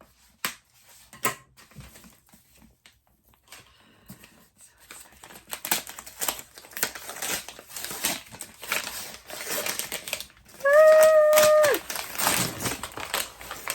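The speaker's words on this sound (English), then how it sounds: "And I cut the packaging." Scissors snip and crinkle through the packaging of a book-mail parcel at close range, with scattered sharp clicks and rustles building in density, then a brief tonal squeak near the end.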